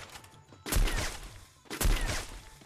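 Two heavy weapon bursts in the Free Fire video game, each a sharp loud blast at about 0.7 and 1.8 seconds, followed by a decaying rumbling tail with no talk.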